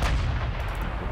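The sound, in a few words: battleship main guns firing a salvo in the video game Ultimate Admiral Dreadnoughts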